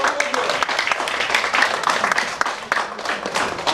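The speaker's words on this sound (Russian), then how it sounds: "аплодисменты." An audience at a 2012 church testimony gathering in Bila Tserkva, Ukraine, claps in a dense, steady burst of applause that carries on throughout at a fairly loud, close level.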